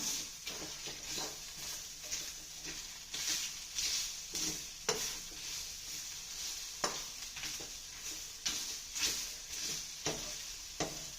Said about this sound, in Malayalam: പപ്പടം ഇട്ട് കൊടുത്ത് നമുക്കതൊന്ന് ഫ്രൈ ചെയ്തെടുക്കാം